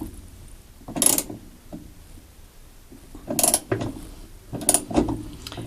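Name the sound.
tightening a bolt on a Whirlpool washer agitator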